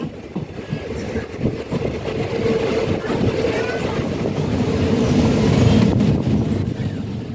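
Passenger train on the Trichy to Thiruvarur line via Thanjavur pulling away from a station after a one-minute halt, a steady rumbling engine and wheel noise that swells louder over the stretch, with faint talk beneath.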